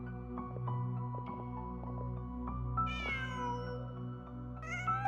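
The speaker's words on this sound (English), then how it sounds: "Huh. Just a cat." A cat in the video game Genshin Impact gives two rising, drawn-out meows over a steady music bed, the second arriving near the end, clear and close.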